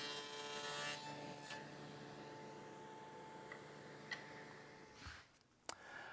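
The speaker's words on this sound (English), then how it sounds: "I'm going to take care of that over at the table saw using a dado blade." A table saw fitted with a dado blade drones steadily with a tonal whine as wood is cut, then winds down into a few scattered clicks and knocks.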